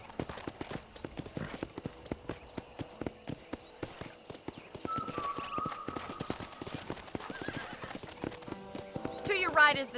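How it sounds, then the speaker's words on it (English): Steady rhythmic clip-clop of horse hooves on a ranch in the Red Dead Redemption video game, a brisk continuous gait with a brief whinny near the end while a character talks. "I picked out a fine horse for you."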